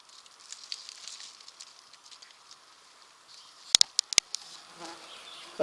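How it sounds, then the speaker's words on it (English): Mosquitoes and other insects drone in the woods at a forest crash site, a thin steady whine near the ear, with a few sharp clicks and taps breaking through. "these mosquitoes are killing me."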